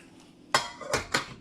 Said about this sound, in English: I'm going to put the lid on this